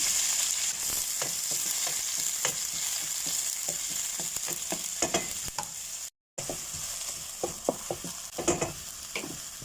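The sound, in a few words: garlic sautéing in hot oil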